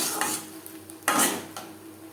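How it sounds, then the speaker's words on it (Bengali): Mashed arum leaf mixture stirred in a pan with a utensil, soft scraping strokes in two short bursts, close by and fairly quiet with no talking. "বাটার সাথে বেশ ভালো করে মিক্সড করে দেবো।"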